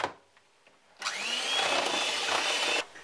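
A whirring electric mixer blends banana pudding batter, starting abruptly after a quiet moment, running steadily and fairly loud for almost two seconds, then cutting off.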